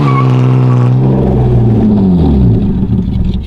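A BMW E36 drift car revs hard with both rear tires spinning, a loud close engine whine that climbs and then falls, with tire noise mixed in and no talking.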